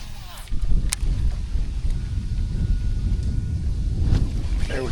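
Strong pre-storm wind roars steadily across the microphone, a continuous low rumbling buffet with gusty swells throughout.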